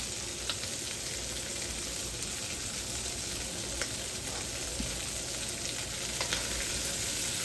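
Sausages sizzling in a frying pan, a steady close crackle of hot fat with small pops scattered throughout, alone without talk.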